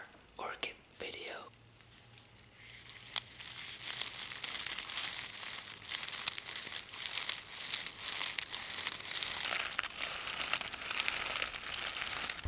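Orchid being repotted, its potting medium handled close to the mic: dense crinkling, rustling and soft scraping runs throughout, with a few sharper crackles early on and quiet whispered talk underneath.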